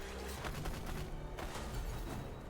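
Barrage card attack in Roguebook, a rapid volley of popping, gunfire-like hits rattling in quick succession at low volume under steady game sound.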